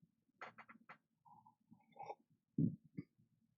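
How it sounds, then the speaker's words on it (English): A person lets out a short, low burp near the end, following some faint clicks and murmurs in a quiet room while assembling plastic model kits. "Oh, I burped into it."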